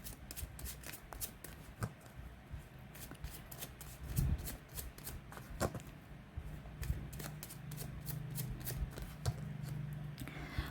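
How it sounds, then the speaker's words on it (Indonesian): Tarot cards are shuffled by hand in a quick string of papery riffles and soft slaps, close and fairly quiet, with a few louder flicks along the way and no talk over them. "saya kocok kartunya"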